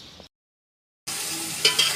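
A loud burst of sizzling as spiny gourd (kankoda) drops into hot tempering oil, with a brief silence before the crackling starts and holds steady.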